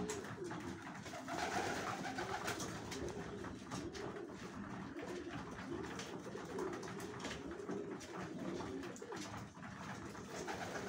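Lively, healthy pigeons coo repeatedly at a loft during feeding, with soft, low rolling calls close by over a steady background rustle.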